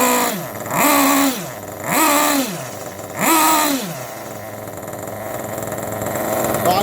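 Nitro engine of a Kyosho Inferno Neo 3 RC buggy during break-in, revving in three rising and falling blips before settling into a rough, rich idle that sounds close to stalling, near and loud.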